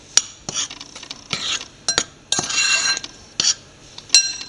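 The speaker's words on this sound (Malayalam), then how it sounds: "എല്ലാം കൂടെ നല്ലപോലെ ഒന്ന് കൂട്ടി ഒഴിപ്പിക്കാം" A spoon stirs wheat dosa batter mixed with water and salt in a bowl, producing close, irregular clinks and scraping strokes against the bowl with short pauses between them.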